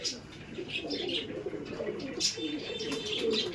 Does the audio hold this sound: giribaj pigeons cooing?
yes